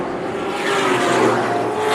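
Stock cars race at Tucson Speedway, a loud, steady engine roar swelling slightly as cars circle the track, with no talk.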